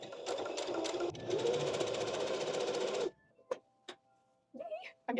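A home sewing machine stitches fabric in a fast, steady mechanical patter for about three seconds, then stops. A few isolated clicks and a brief bit of voice follow in a quiet room.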